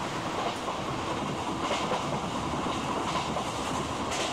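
Indian Railways train in the Open Rails simulator, running as the Jammu Tawi–Bandra Terminus Vivek Express: a steady, loud rumble of wheels on track with rhythmic clickety-clack and no talk.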